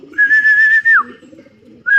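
A pigeon gives a clear, loud whistle that slides down at the end. Soft cooing and fluttering sounds follow as pigeons arrive, then another short whistle.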